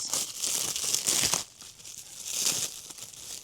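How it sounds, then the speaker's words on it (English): Plastic packaging around a shipped plant crinkles and rustles as it is unwrapped, close and fairly quiet, in two handling bursts with a short lull between and no talk. "Okay, so I'm going to unwrap this."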